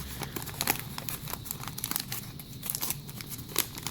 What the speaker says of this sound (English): It's nice opening a bunch of packs of cards.